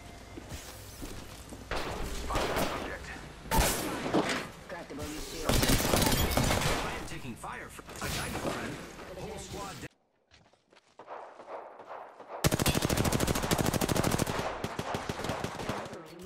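Rapid gunfire bursts ring out in a ranked Apex Legends match, loud and repeated, with a short quiet gap before another sustained volley; in-game voice callouts are heard over the shooting.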